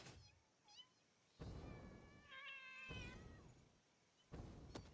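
Several cats meow and caterwaul in a series of drawn-out, wavering cries, separated by short gaps and scattered soft knocks, fairly quiet overall.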